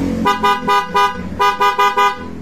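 A loud, bright aftermarket Corsa horn on a motorcycle honks in two bursts of short toots, about seven blasts in a quick, evenly paced rhythm, close by.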